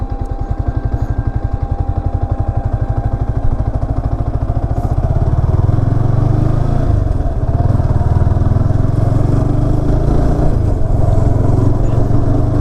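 A motorcycle rides along a road, its engine close and loud with a steady rapid putter that thickens into a continuous rumbling drone as speed builds, mixed with wind noise and no talk.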